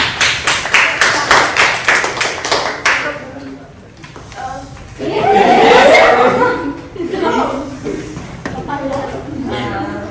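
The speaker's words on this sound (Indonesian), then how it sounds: "tepuk tangan buat kelompok 5." Classroom clapping for a student group: rapid, close hand claps ring out for about three seconds, then laughter and chatter among the students take over.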